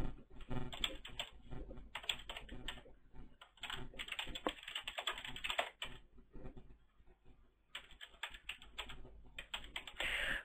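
Typing on a computer keyboard while filling in a signup form, with quick bursts of close, crisp key clicks separated by short pauses.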